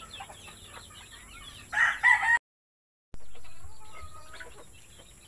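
Texas-breed hens and roosters on a Filipino farm, clucking in short bursts with a loud crowing call, then a brief silence before more scattered clucks; no talking.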